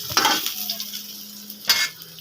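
Garlic sautés in a hot pan, a steady close sizzle broken by two sharp clanks of a utensil stirring against the pan.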